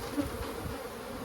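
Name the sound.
bees buzzing as they go airborne from a shaken hive box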